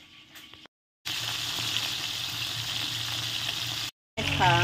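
Tilapia frying in hot oil while a saucy tilapia dish is cooked, giving a steady close sizzle for about three seconds between brief silent gaps, with a faint voice-like tone near the end.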